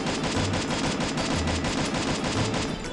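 Rapid automatic gunfire from an M4A1 or AK rifle in the Free Fire video game, a dense, steady stream of loud shots that runs the whole time with no pauses.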